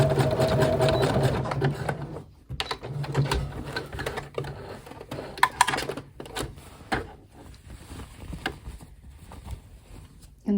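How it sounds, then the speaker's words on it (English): Sewing machine zigzag stitching braided elastic onto a leggings seam, a steady mechanical whir that stops and restarts with short pauses and a few clicks near the end, close and moderately loud. "sew it along this seam allowance here with a zigzag stitch"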